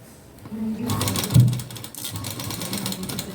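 A sewing machine stitches blouse sleeves, starting after a short quiet moment and then running in a steady mechanical whir with a brief louder clunk near the start, close up and without talk.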